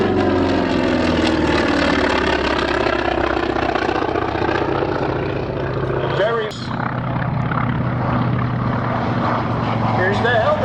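A WW2 Grumman Wildcat fighter passes at an air show in Reading, Pennsylvania, its piston engine and propeller a loud, steady rumbling drone that fills the scene with little change in level.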